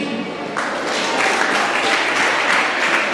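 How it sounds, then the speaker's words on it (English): Audience applause at a school debate competition, starting sparse then swelling into steady, dense clapping from a crowd that fills the room. "Big round of applause."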